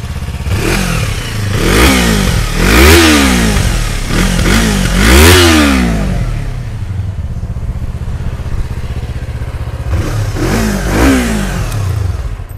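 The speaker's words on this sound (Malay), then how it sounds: "jom kita start tengok ini Yamaha MT25 bunyi macam mana." A 2024 Yamaha MT25 ABS motorcycle engine idling and revving up repeatedly, loud and close, with rising and falling revs in several bursts before settling back to idle, then a couple more blips at the end.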